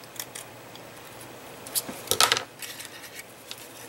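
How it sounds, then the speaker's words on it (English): A piece is cut off while a desk organizer is being made: a few light ticks lead into a short, crisp burst of snipping and crunching midway, followed by a faint click. "Nope, I'm going to cut this second one off right here."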